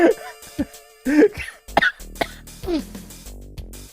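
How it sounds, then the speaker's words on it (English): A person coughs in a game scene, several sharp bursts and throat-clearing sounds close up, mixed with short snippets of voice and a low music bed. "Now you're coughing."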